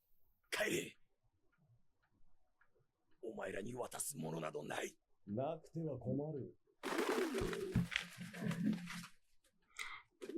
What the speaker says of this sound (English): The fucking pigeon, though.